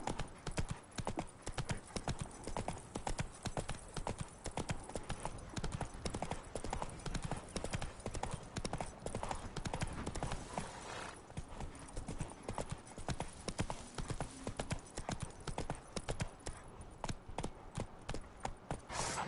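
Horse hooves gallop in The Witcher video game, with a rapid, steady clip-clop beat that continues throughout at moderate volume and no talk over it.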